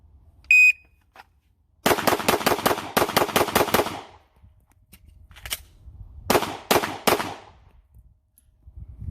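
Rapid pistol shots fired on a shooting drill with a Dave Sheer flat face trigger, coming in tight bursts of five or six loud, close cracks, then a pause and a second pair of quick bursts, with a brief electronic beep at the start.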